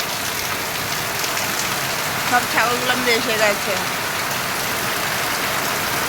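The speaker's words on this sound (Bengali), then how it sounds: "এখন কীভাবে বৃষ্টি পড়ছে।" Steady evening rain patters down outdoors on an open surface, a continuous broadband hiss with a nearby voice talking briefly over it midway.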